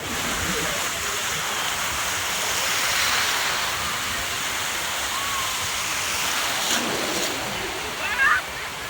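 Sea waves wash onto a beach in a steady, close rushing roar of surf, with voices faintly in the background and a small splash near the end.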